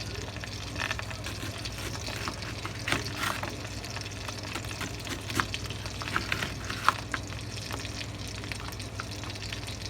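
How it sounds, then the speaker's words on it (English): Hot link sausage fries in a pan with a steady, moderate sizzle and crackle, broken by occasional soft clicks from stirring, over a low background hum. "Our sausage is cooking."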